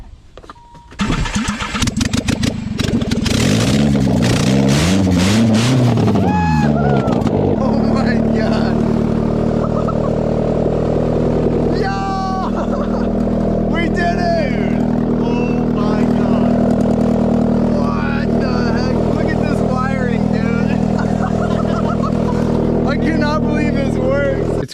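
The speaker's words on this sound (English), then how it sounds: "Go ahead, Tim, crank her over." A Nissan KA engine once thought blown, with the oil pan off, cranks over on jumper cables with its fuel pump grounded to the trunk latch. It churns for several seconds, then catches and settles into a loud, steady run while voices talk over it.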